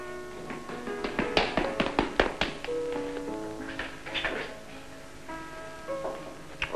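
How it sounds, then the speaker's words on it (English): Knocking taps on a door ring out in an irregular series of sharp, close raps over a quiet background with faint low tones, and no voices are heard. "Tap on the door, mind."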